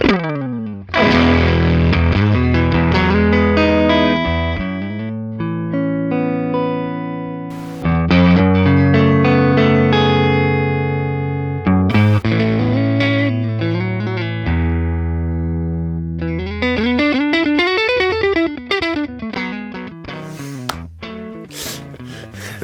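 Electric guitar played through a Fender tube amp and digital modelers, with sustained distorted chords, bright plucked notes and sweeping pitch bends, loud and close with no talking.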